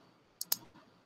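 A computer keyboard clicks twice in quick succession, sharp and quiet against a faint room hum, the keyboard used at a distance from the machine.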